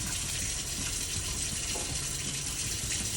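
Hot water runs from a household tap in a steady, full gush, loud and close, unbroken for the whole stretch.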